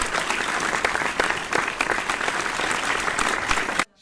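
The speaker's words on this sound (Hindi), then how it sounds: "जोरदार तालियां बजाइए" Loud, sustained applause from a crowd at a junior singing competition quarter-final, dense clapping throughout that cuts off abruptly at the end.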